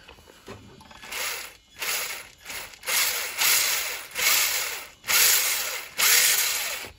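A Traxxas TRX-4 RC truck's small electric motor and gearbox whir in repeated bursts, spinning up and cutting out about eight times, close and fairly loud with a gritty gear whine.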